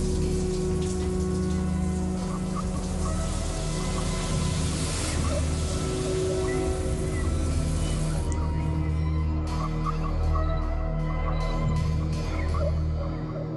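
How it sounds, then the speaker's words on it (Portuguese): A bathroom shower and taps run with water, a steady hissing spray that continues unbroken for over ten seconds, with a faint voice now and then. "e o chuveiro estava ligado e as torneiras abertas."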